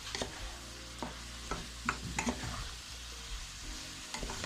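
A spiced fish mixture seasoned with paprika is stirred in a pot for Jamaican steamed fish, giving repeated scraping, clinking strokes with a soft sizzle underneath, close and fairly busy without any talk.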